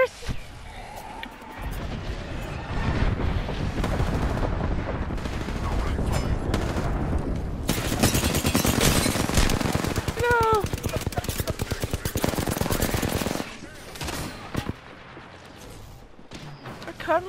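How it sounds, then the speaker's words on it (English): Airstrike bombardment in Apex Legends: a long stretch of dense, rapid gunfire and rattling blasts at close range, swelling to a heavy pounding climax before cutting off abruptly, with voices speaking over it. "Heads up, we have an airstrike on us."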